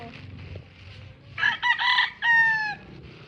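A rooster crows loudly nearby in a couple of drawn-out calls over a murmuring outdoor background.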